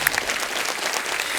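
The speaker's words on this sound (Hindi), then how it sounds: "तालियां जोरदार होनी चाहिए." Studio audience applause on a comedy talk show, a brief, loud, dense burst of clapping filling the moment with no voices.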